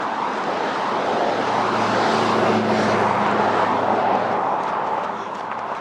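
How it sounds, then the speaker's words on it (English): Road traffic passing on Finlayson Road near a golf course, a steady loud broadband roar of vehicles rising and easing over several seconds with no talking. "Sorry about the traffic noise."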